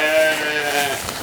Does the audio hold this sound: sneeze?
no